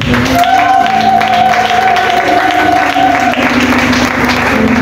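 A church congregation applauding during a worship service, loud sustained clapping with crowd noise and held tones from music or voices underneath, steady for the whole stretch.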